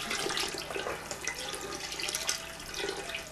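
Red chili sauce poured from a can into a pot while making menudo, a wet continuous splashing and glugging pour, close and moderately loud, with no talking.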